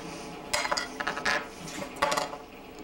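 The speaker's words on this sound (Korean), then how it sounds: "먼저 실험에 사용하기 위해 돌에 붙은 하얀 부분을 작은 크기로 쪼갰다." White crust on a stone is chipped into small pieces, giving close, sharp clinks and taps in a few irregular clusters with short pauses between them, with no voices.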